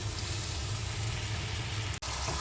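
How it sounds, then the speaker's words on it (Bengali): Masala spices fry slowly over low heat for a koi fish curry, a soft, steady sizzle with a faint low hum beneath it, broken by a brief sharp click near the end. "মশলাটা ভালোভাবে কষে আসা পর্যন্ত একটু ধীরে ধীরে আঁচে"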